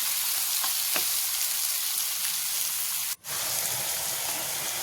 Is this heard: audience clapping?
no